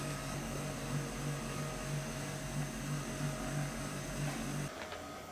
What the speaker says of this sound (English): Then if you hear that, I did turn the seat vibration on.